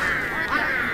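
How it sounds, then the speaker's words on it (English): Penguins squawk in the video game Don't Starve Together, giving a short, nasal, honking call lasting about a second, close and fairly loud with no talking over it. "I got ambushed by penguins."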